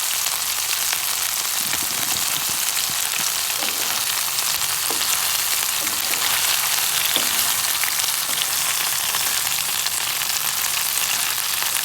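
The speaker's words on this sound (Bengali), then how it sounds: "এবার আমি হালকা আছে পাতুরিগুলিকে ভেজে নেব।" Salted hilsa paturi parcels fry on a low flame in a pan, giving a loud, constant sizzling hiss from start to finish with no voices over it.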